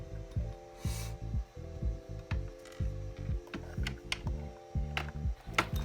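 A flathead screwdriver pries and twists bulbs out of a Honda Prelude climate control panel, giving a string of close, rhythmic plastic scrapes and small clicks with brief pauses between them.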